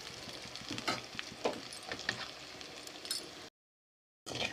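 Spicy chicken pieces fry in a pan, a close sizzle with scraping stirs and crackles, steady for a few seconds before a brief gap and a return.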